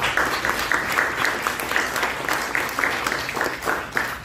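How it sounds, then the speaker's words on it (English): At a bancassurance partnership signing, an audience applauds the RCBC bank partner and Sun Life Grepa team, a steady, fairly close wash of clapping with rhythmic louder claps recurring throughout. "please give RCBC, our bank partner, and of course our Life Grepa team, a big round of applause"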